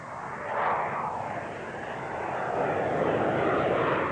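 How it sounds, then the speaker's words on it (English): RAF Harrier attack aircraft flying past, a loud broadband jet roar that swells near the start and builds steadily to the end, with no voices. "A frontline attack aircraft of such capability is the RAF's Harrier"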